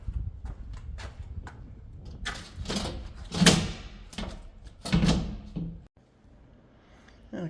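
Heavy glass sliding door being lifted and worked out of its frame, with scraping, knocking and thudding bursts of varying loudness, a louder clatter midway, then quiet.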